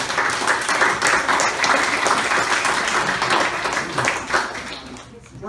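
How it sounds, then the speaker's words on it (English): Audience applause at a county jobs and economic development talk, a full sustained clatter of clapping from a crowd that fades toward the end, with some voices mixed underneath. "I think everybody deserves a round of applause for it"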